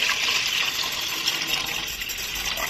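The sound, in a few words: water while washing mung beans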